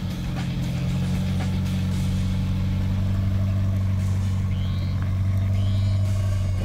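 Off-road vehicle crawling slowly over a rocky trail near Derry, New Mexico, its engine a steady low rumble at low revs, continuous and close, with faint scraping and creaks over the drone.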